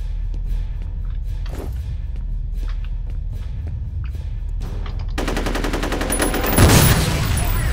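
Gunfire in the shooter game F.E.A.R., starting with sparse thuds and scattered shots, then a sustained close burst of rapid automatic fire with a heavier impact near the end.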